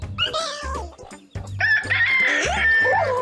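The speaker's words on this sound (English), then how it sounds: "That's the rooster crowing." A rooster crows loudly and close, with a drawn-out, wavering call that dominates the second half. Shorter clucking sounds come before it.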